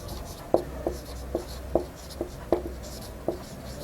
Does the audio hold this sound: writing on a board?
yes